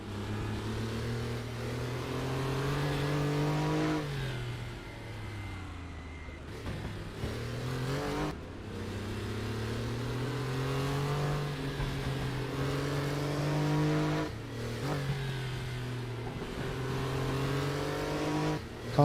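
Porsche Carrera Cup car lapping Knutstorp in a racing video game, heard from onboard: a loud, continuous engine note climbs through each gear, drops sharply at the upshifts and dips under braking, with no talking.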